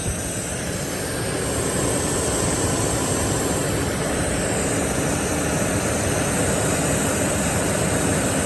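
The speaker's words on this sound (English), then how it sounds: "You can tell the fans are working overtime. They just added some speed." A steady, loud mechanical whir of an overheating Range Rover's radiator cooling fans running fast, a continuous rushing hum with no pauses and no talking.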